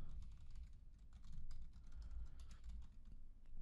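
Someone types an email address on a computer keyboard, producing quick, irregular clusters of light key clicks, close and quiet, with short pauses between bursts.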